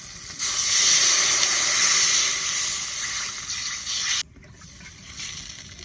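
Water poured into hot oil with black cumin and slit green chilies bursts into a loud, steady steam hiss that holds for a few seconds, then drops off sharply to a quieter simmering sizzle.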